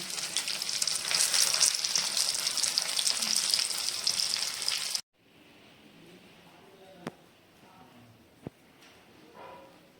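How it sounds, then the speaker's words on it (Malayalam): Fish deep-frying submerged in hot oil, a loud, dense crackling sizzle for about five seconds that cuts off abruptly, followed by quiet room sounds with a couple of sharp knocks. "ഇങ്ങനെ എണ്ണയിൽ നല്ലോണം മുങ്ങിപ്പൊരിയുന്നതാണ് എനിക്കിഷ്ടം"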